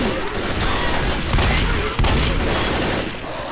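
Dense, continuous gunfire from the Left 4 Dead video game, including sniper rifle shots, forms a loud steady barrage with a few stronger cracks standing out.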